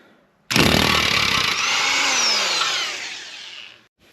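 Impact wrench running continuously for about three seconds, loud and close, as it spins a nut off the suspension of a Subaru Forester during a control arm and knuckle teardown.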